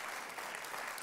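Church congregation applauding, a brief, faint but dense spread of hand clapping with no voices on top.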